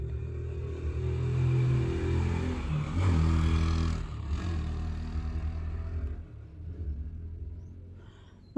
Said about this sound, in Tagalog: Maraming motorsiklo ngayon na dumadaan mga palangga.